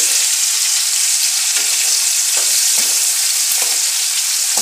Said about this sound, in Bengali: এটাকে একটু নেড়ে নিতে লাগবে।